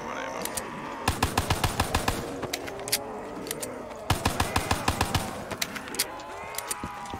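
Rapid automatic gunfire in Black Ops 3, The Giant zombies map, coming in two long rhythmic bursts of closely spaced shots with brief gaps, loud and close over a busy game background.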